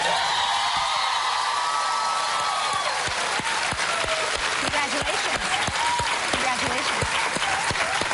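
Loud, sustained applause from a large studio audience, dense clapping throughout with some cheering mixed in.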